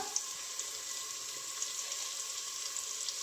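Onions, ginger and green chili fry in a pan while making mustard greens saag, a steady close hiss and sizzle with faint crackles throughout.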